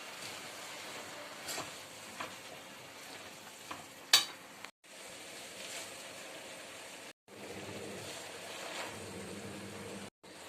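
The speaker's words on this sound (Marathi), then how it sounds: "आता हे खालवर करून घेऊया परतून आणि नंतर दुसरी भाजी टाकूया" Wild monsoon kundru (ivy gourd) being tossed and stir-fried in a hot pan, a steady close-up sizzle with scraping stirs, briefly cut by short silent gaps; no talking.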